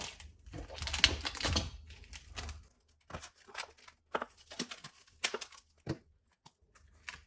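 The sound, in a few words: paper being placed over cut fruit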